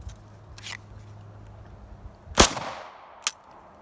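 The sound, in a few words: Glock 17 pistol gunshots at the range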